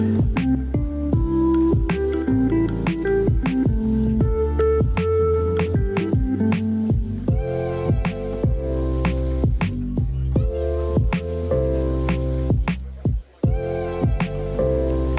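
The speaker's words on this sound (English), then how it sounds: "so I'm just starting off by washing all the berries, getting off any dirt or bugs that might be on there." Strawberries and other berries being washed in a bowl of water, giving repeated wet squishes, drips and splashes in an irregular rhythm, close and fairly loud, with a brief pause near the end.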